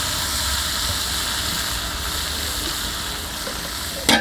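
About a kilo of small shallots frying in a large, heavy pan with ginger for a country chicken meal, giving a steady broad hiss and crackle throughout, with a brief louder clatter at the very end.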